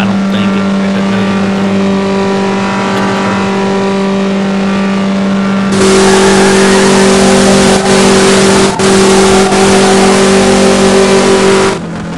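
Pro charger and supercharged blown cars at a no-limit drag racing event, a loud sustained engine roar with a steady tone that jumps to a harsher, louder full-throttle blast midway, then cuts off near the end.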